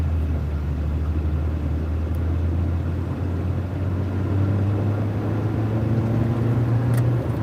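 Steady road and engine rumble from inside a moving car crossing two lanes of traffic, a continuous close drone with faint passing vehicle noise and a slight rise near the end.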